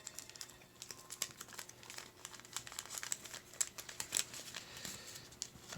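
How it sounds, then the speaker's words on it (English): Paper being folded into an origami Occamy: quiet, close crinkles and crisp rustles in quick irregular bursts, with a few sharper snaps as creases are pressed. "I'm going to fold along the lines so no new lines are being made"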